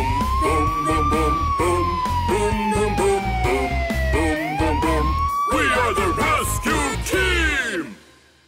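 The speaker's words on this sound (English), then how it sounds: "let's go ambulance" An emergency siren wails steadily, sweeping up and down in pitch, loud and close, then cuts off abruptly near the end.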